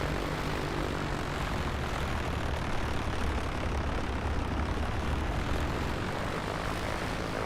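A propeller engine drones steadily on an A2A Comanche just after landing at a Texas airport in Microsoft Flight Simulator 2024, a dense continuous rumble at constant level with no other sounds.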